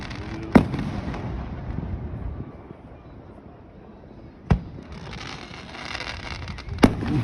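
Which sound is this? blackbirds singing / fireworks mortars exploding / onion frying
fireworks mortars exploding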